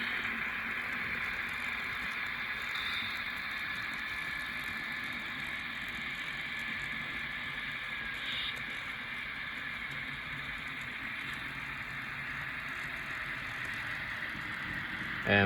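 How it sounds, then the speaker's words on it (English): A CSX scale model locomotive with DCC sound runs on a layout beside Norfolk Southern cars, giving a steady, faint engine drone with a faint rumble that continues unchanged throughout, with no clear voices. "We hear this guy, the CSX scale train locomotive, DCC and sound"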